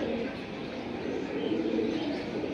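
Soft, low cooing of caged pigeons at a pigeon seller's stall, a steady quiet murmur of several birds with no voices.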